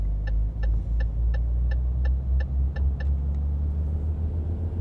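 A Renault Premium 380 truck in Euro Truck Simulator 2, hauling a 70-tonne trailer through snow, holds a steady deep diesel drone at high revs, with a faint evenly spaced ticking over the continuous close rumble.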